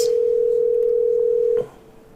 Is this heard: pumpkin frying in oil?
no